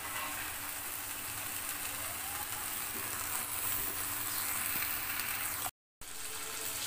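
Cut and cleaned greens and beans go into a pan where fish is frying with ground spice paste, giving a steady, dense sizzling hiss that runs without pause before a brief cut to silence near the end.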